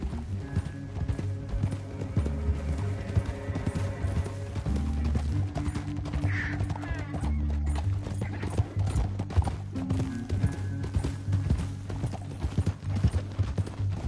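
Horse hooves clip-clopping steadily in the Red Dead Redemption 2 video game, a continuous rhythmic trot under game music with a brief whinny, voices talking over it at times.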